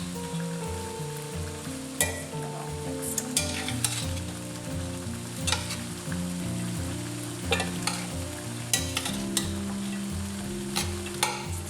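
Garlic and onion stir in a frying pan off the heat, giving a steady soft sizzle with irregular scraping spoon strokes and clinks scattered throughout, close and moderately loud, no talking.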